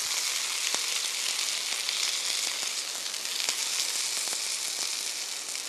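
Tuna sautés quickly in a Teflon-coated pan in a restaurant kitchen, a loud, steady, close sizzle filling the whole stretch, broken by a few faint clicks and taps of the pan being moved.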